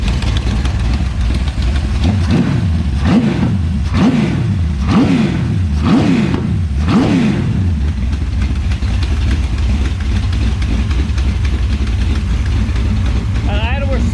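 Rebuilt engine idling and revving with an exhaust header leak, a loud rumbling run with several sharp throttle blips in the middle, then settling to a steady idle; a voice speaks over it.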